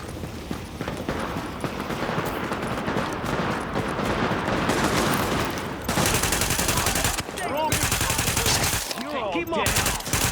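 Dense bursts of gunfire rattle through a firefight in the video game The Division, rapid automatic volleys stacked loud and close over several seconds with brief gaps.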